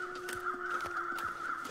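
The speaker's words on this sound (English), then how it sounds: "Birds be flying" Crows caw repeatedly in The Long Dark, several short harsh calls in an uneven rhythm over a steady whistling wind tone, with no talking.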